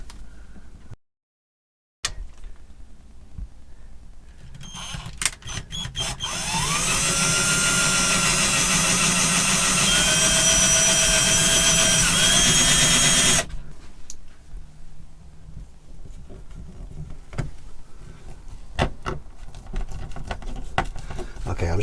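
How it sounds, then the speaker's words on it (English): A power drill with a very small wood bit whirs steadily for several seconds, boring a small pilot hole into wood inside a motorhome, with clicks and handling noise before and after. "I'm just going to drill a really small pilot hole, very small wood drill,"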